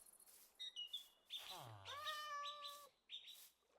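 A cat in Minecraft gives a few short meows and one longer drawn-out mewl, close and fairly quiet, with brief chirpy game sounds around it.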